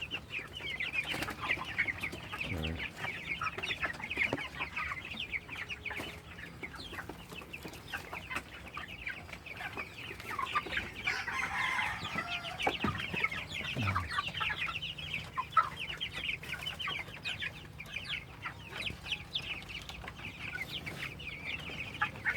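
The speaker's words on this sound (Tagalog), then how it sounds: "Katan-aw manok." Chickens, roughly two- to three-week-old birds, cluck steadily at a farm, with a dense, continuous chorus of chirps and clucks close by and no talk.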